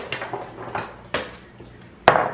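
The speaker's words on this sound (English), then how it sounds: "And then I'm gonna just throw these on one of these pans." Pieces of food drop onto a metal baking pan in a home kitchen, making three distinct clattering impacts spaced about a second apart, the last one the loudest and sharpest. Close and alone, with no speech.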